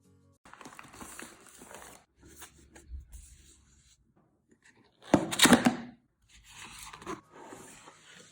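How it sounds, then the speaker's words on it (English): A portable Apple CarPlay screen is unboxed up close: soft rustling and scraping of packaging, a few light thuds, then a loud burst of tearing or sliding cardboard and plastic, followed by more quiet handling. "Okay, let's go ahead and unbox it."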